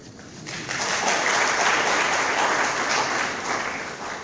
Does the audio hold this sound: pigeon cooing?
no